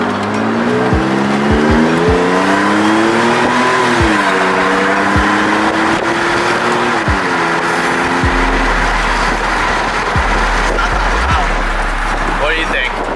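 A Chevy Sport engine fitted with a new Y-pipe exhaust revs loudly and repeatedly, pitch climbing and dropping in several surges with popping backfires, while people talk and shout excitedly nearby.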